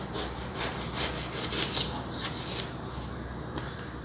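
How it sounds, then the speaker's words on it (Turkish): Hand saw cutting through wood from the underside, a close, steady rasping stroke repeated throughout with slight rhythmic surges and no talk. "Şöyle bir kesiyorum. Bir altından kesiyorum."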